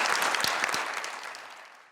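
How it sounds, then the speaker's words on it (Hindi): Studio audience applause on a comedy quiz talk show, a dense burst of clapping that starts loud and gradually fades over a couple of seconds. "बहुत सारी तालियां।"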